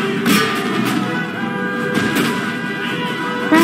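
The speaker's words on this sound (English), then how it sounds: "I have one cannon that can shoot at them" Booming cannon shots in Total War: Empire, with repeated blasts over a constant busy roar of battle noise.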